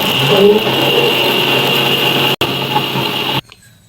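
A mixer grinder whirs steadily while grinding onion and masala for goat leg soup, loud and continuous, briefly cutting out once before stopping near the end.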